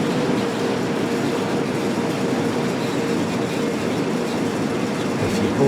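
A BNSF ES44C4 diesel freight train in the Train Sim World 3 video game runs on the Cajon Pass route between Barstow and Victorville, giving a steady, loud rolling rumble of wheels and engine with no pauses.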